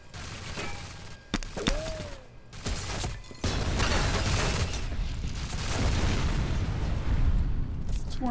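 An automated turret fires at the player in the shooter F.E.A.R. Perseus Mandate: bursts of gunfire and booms, first broken up and then a dense, sustained barrage, loud and close.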